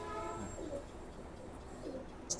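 Imported teddy pigeons, a breeding pair kept with their chicks, give a few soft, low coos close by against a quiet background.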